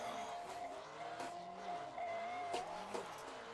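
Car tires skid and squeal through a drifting slide in a racing video game, a steady high screech held for several seconds under continuous engine roar, with no talking.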